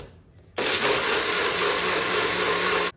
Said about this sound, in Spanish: Y lo voy a poner a moler.